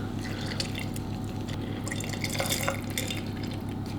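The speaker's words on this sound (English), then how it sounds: "I'm gonna squeeze out the rest of this lemon and then add a lime" Lemon juice is squeezed by hand into a jar, with fine wet drips and small splashes pattering unevenly over a low background hum.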